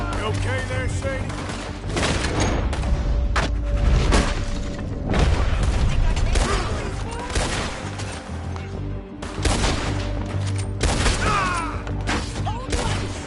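A video game shootout with dense, loud gunfire, shots in rapid clusters mixed with heavier booms and crashes, with a couple of brief lulls between volleys.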